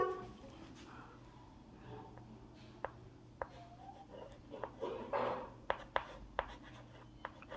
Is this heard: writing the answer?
yes